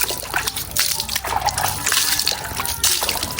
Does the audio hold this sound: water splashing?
yes